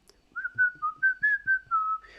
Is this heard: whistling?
yes